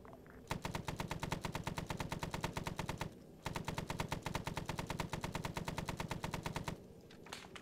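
Rapid door-gunner machine-gun fire from a helicopter in a Vietnam-era Hamburger Hill video game mission, with two long, evenly paced bursts close and loud, separated by a brief pause.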